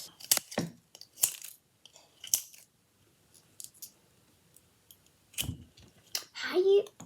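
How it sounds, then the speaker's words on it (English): Scissors snip through the packaging of a cat jewel toy in a few sharp, close cuts separated by quiet pauses, followed by crinkling plastic handling. "Let's get the pair of scissors."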